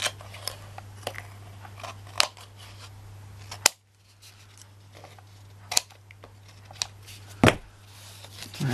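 Large scissors snip paper in a few sharp, separate cuts, with quiet rustling and handling between them and a steady low hum behind.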